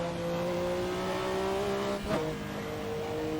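A Porsche 962C with a turbocharged engine, driven in Assetto Corsa at Le Mans 1991, holds a steady, loud, buzzing drone with a brief dip and blip near the middle, like a gear change, then resumes.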